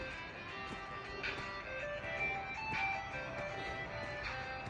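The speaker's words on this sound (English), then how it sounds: "Let's get down here and see if that's the ice cream truck." A tinny ice cream truck melody plays continuously at moderate distance, repeating its tune over steady traffic-like background noise.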